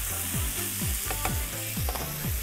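Julienned onion cooks with pancetta in its rendered fat, a soft steady sizzle punctuated by rhythmic sweeping strokes of a spoon through the pan, no voices.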